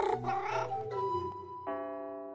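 A kitten in a children's audio story gives a few drawn-out, tonal meows in close succession, clear and up front with no talking around them.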